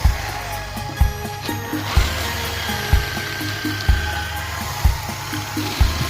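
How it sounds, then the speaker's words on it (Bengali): A power drill bores a series of holes in an electrical lighting board, loud rhythmic bursts of whirring about once a second, each with a sharp bite into the material, close and without speech. "আর দুটো ড্রিল করলে আমার বোর্ডের ড্রিল কমপ্লিট হয়ে গেছে"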